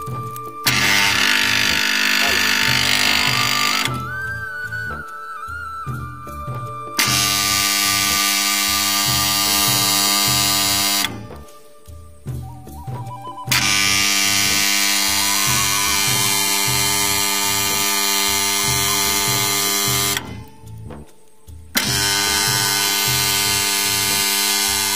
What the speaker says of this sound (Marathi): अशा पद्धतीने स्टार्टर आवाज मारतो.